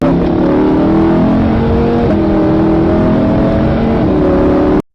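A car engine revs hard as it accelerates, rising harmonics climbing steadily, loud and close, continuous with no talk over it.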